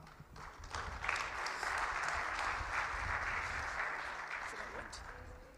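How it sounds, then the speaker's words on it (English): An audience applauds a professor at a 2024/2025 budget review dinner session; steady, dense clapping from many hands fills the room at an even, sustained loudness throughout. "Let's just give him another round of applause"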